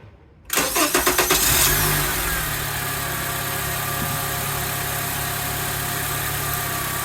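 A Honda Accord 2.4-litre four-cylinder engine with a newly fitted serpentine belt starting up: a rapid chug of starter cranking catches within about a second, then settles into a steady, even idle, close and loud, with no voices.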